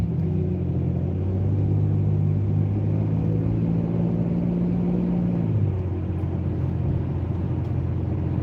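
An adult learner's car coasting on a road as the brake is gently squeezed, a loud steady engine and road rumble whose low hum drops in pitch partway through as the car slows.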